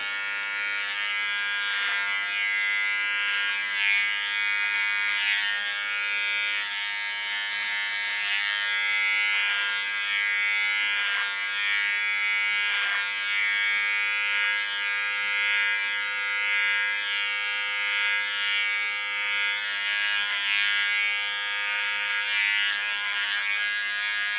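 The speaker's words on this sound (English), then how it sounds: "Then with my small clipper I clean the contour." A small electric hair clipper trimming the hair contour during a bob cut, a steady high buzz held close throughout with slight wavers as it moves along the hairline.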